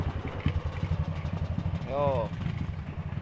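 A motorcycle on a steep hill tourist trail gives a low, faint engine rumble, idling and chugging in the background while someone talks over it and calls out briefly.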